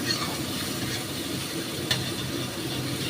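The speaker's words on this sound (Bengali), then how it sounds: "এবার এটাকে একটু নাড়ানাড়ি হবে" A pan of bata fish curry with black cumin sizzles steadily while it is stirred, making a continuous frying hiss with a soft scrape partway through.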